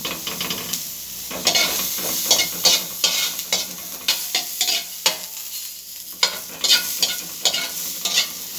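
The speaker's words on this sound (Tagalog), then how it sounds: "Igigisa natin yung sibuyas tsaka bawang." Onion and garlic sauté in a little oil, with a steady close sizzle and repeated spatula scrapes and stirs against the pan throughout.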